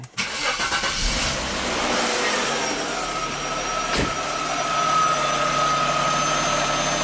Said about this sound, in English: Let's start up the car and see these sensors warm up as they should.